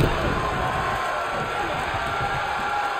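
Virtual arena crowd from the WWE 2K22 video game at a Clash at the Castle match, a continuous dense roar of cheering fans that holds steady as a wash of noise throughout.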